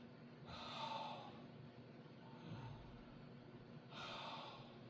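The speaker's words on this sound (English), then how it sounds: "when you mouth breathe, gasp in, gasp out, like this" Deliberate gasping mouth breaths, in and out, demonstrated close to the microphone: two strong breathy gasps about three seconds apart with a softer breath between, quiet and airy with no talk.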